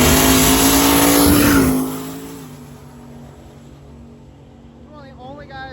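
A clean brown Camaro drag car launching on its first pass at a drag race, a loud engine roar up close for under two seconds that then drops away into the distance while a commentator talks.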